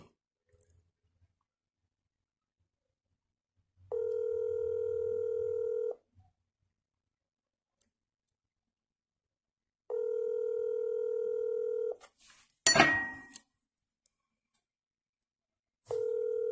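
A telephone ringback tone sounds on an outgoing call: steady two-second buzzing tones repeat about every six seconds with silent gaps, and a short sharp rustling burst comes between them.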